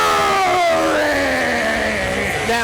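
A wrestling arena crowd boos a tag-team wrestler, a loud sustained mass of jeering voices with drawn-out tones sliding downward and swelling near the end.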